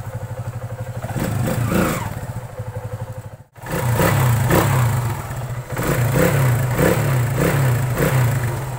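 A Kawasaki Aura Nexus motorcycle engine runs steadily nearby after a clutch housing damper repair, with a loud, even rumble that briefly cuts out before resuming.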